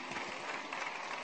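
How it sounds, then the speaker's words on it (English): A church congregation at a Baptist worship service clapping in praise, a dense, even wash of many hands applauding together, sustained and moderately loud throughout. "Let's give God a hand clap of praise."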